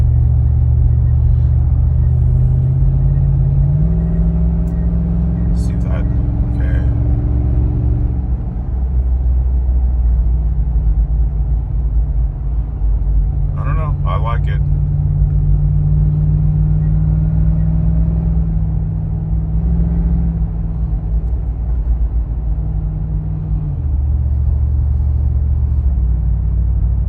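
A 2004 Lexus GX470 with an R4T catback exhaust drives along, producing a loud, steady low rumble that rises and falls with throttle changes, with brief higher-pitched sounds passing over it.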